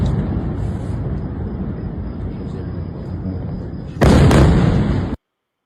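Iranian missiles landing in Israel in news footage: a sustained, heavy low rumble of distant impacts, then a louder, sharper burst of explosion near the end before an abrupt cut to silence.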